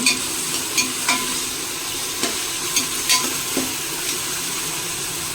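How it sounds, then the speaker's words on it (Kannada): Ginger garlic paste fries in a pan with a continuous moderate sizzle, punctuated by a series of spatula taps and scrapes as it is stirred. "ಶುಂಠಿ ಬೆಳ್ಳುಳ್ಳಿ ಪೇಸ್ಟ್ ಹಾಕೋತಾ ಇದ್ದೀನಿ. ಸ್ವಲ್ಪ ಫ್ರೈ ಮಾಡ್ಕೊಳ್ಳೋಣ."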